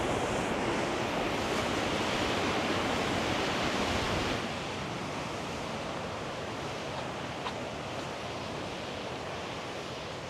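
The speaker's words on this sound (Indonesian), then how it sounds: "kalau ombak besar ya kita kena percikan airnya" Large ocean waves crash on Gunung Kombang beach in a steady, roaring wash of surf that stays loud and broadband, easing slightly partway through, with no voices.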